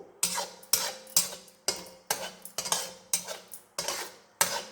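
A spoon scrapes and clacks rhythmically against a large pan while coconut burfee mixture is stirred, about ten evenly spaced strokes, close and clear with no talking.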